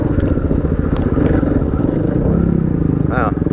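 Dirt bike engine on a woodland trail, loud and close with a steady rumble and rattling as it rides over bumps, with a rider talking over the noise.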